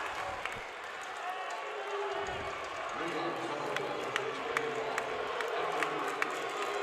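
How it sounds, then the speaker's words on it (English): A packed gym crowd at a 2A boys basketball championship game between Parowan and Kanab roars steadily throughout, with sharp claps and shouts popping through, while a commentator talks over it. "Both crowds really into this one."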